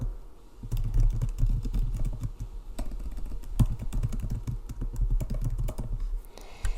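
Rapid keystrokes on a computer keyboard, clattering steadily with uneven bursts and brief pauses, close and fairly loud, with no voices.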